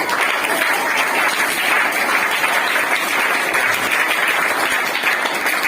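A group doing a scout clap, producing dense, sustained clapping at an even loudness throughout, close and without pauses.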